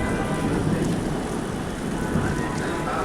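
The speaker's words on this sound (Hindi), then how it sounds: "और खूब बारिश आ रही है" Heavy rain pours down in a constant dense hiss, loud and even for the whole stretch with a deeper rumbling undertone and no clear voices over it.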